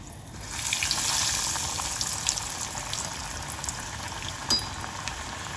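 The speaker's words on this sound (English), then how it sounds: "Now let's fry our patties." Potato patties deep frying in hot oil, a steady bubbling sizzle that swells at the start when they go in, with a few small clicks; no talking.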